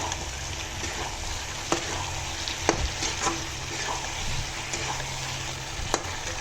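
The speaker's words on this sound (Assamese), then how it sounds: "আলুখিনি এতিয়া ভালদৰে ভাজি ল'ম" Potatoes fry in a pan with a little finely chopped coriander leaves for a fish curry with raw peanuts and tomato, a steady close sizzle broken by a few sharp clicks of stirring.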